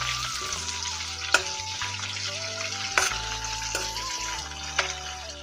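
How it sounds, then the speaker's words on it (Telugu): Chopped onions frying in hot oil with curry leaves for potato curry, stirred with a spoon; a steady sizzle runs throughout, with sharp scraping knocks about every second and a half over faint background music. "మనం కట్ చేసి పెట్టుకున్న ఉల్లిపాయలను కూడా వేసుకోవాలండి. ఇలా వేసుకొని కలుపుకోవాలి."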